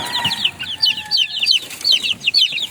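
Backyard chickens cluck in a steady, busy chatter, with several birds calling close by in quick overlapping bursts.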